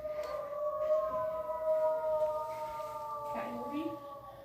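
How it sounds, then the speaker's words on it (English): Coyote howling from an exhibit recording: a sustained, wavering tonal howl with stacked harmonics runs steadily through the clip, then breaks into a brief yip and rising note near the end over a steady background hiss. "Coyote."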